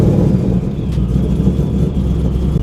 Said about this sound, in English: Time to cold start this thing.